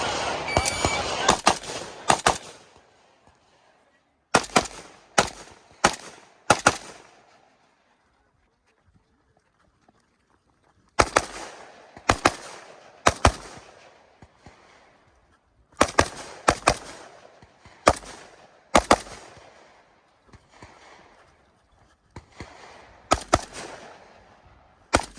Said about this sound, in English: I shot this particular rifle at the AK Masters last year